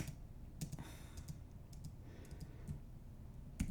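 Several light, sparse mouse clicks at close range during an app accessibility demonstration, where a button is clicked, with faint background noise and no talk.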